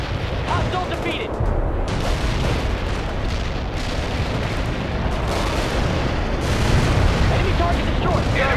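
In the video game World in Conflict, mortar fire and explosions thunder continuously, a dense, loud barrage of overlapping booms and rumbling blasts with radio-style voices talking underneath.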